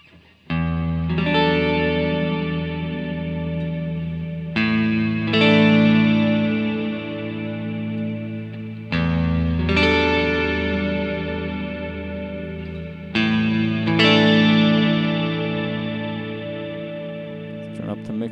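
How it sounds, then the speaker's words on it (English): Electric guitar chords ring out in four long strummed phrases, washed in a big reverb tail with a shimmering, wavering modulation, played alone. "Have some modulation going also. Just got a nice big reverb."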